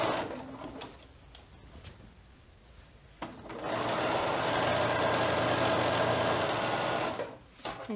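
A sewing machine stitching a hem in knit fabric. A few quiet handling sounds come first, then a loud, steady, close motor whir with rapid needle clatter that lasts several seconds and stops near the end.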